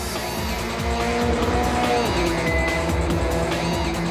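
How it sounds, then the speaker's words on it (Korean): Formula 3 race cars at speed on a circuit, a dense, loud, continuous engine roar with layered high-pitched whines and tire noise, steady throughout with no pauses. "세계 최고의 자동차 기술이 만들어낸 모터스포츠 포뮬러 경기"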